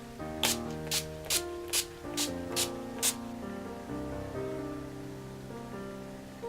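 Seven quick, hissing spritzes of a makeup setting spray bottle in a steady rhythm, close by, over a soft background of music.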